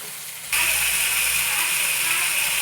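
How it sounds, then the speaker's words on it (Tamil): Tomatoes and onions sautéing in oil for a sardine fish curry, a steady loud sizzle that bursts in suddenly and holds as a continuous hiss. "இப்போ எல்லாத்தையுமே நல்லா எண்ணெயில் நல்லா வதக்கிடுவோம்."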